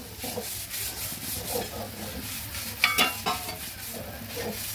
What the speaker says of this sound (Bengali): স্বাদ মতো নুন। ভালোভাবে নেড়ে দিচ্ছি।